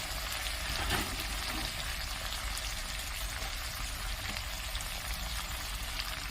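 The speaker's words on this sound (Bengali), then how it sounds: "আদা রসুন বাটাটা দিয়ে দিলাম এটা আমি ভালো করে কষিয়ে নেবো" Ginger garlic paste frying in a pan while being sautéed for a chingri potol curry, a steady broadband sizzle holding close and loud throughout with no voices.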